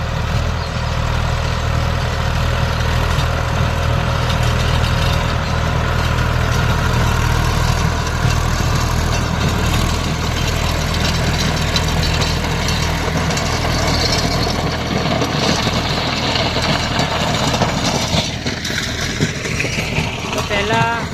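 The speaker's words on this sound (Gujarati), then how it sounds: "તો મિત્રો, 1500 RPM થી ટ્રેક્ટર ચાલી રહ્યું છે આપણું," A tractor engine runs at 1500 RPM with a Shaktiman rotavator attached, giving a loud, steady low drone that holds close and unbroken for the whole stretch.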